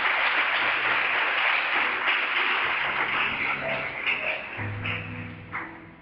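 A church congregation applauding, a dense wash of clapping that holds steady and then thins out, with faint voices underneath.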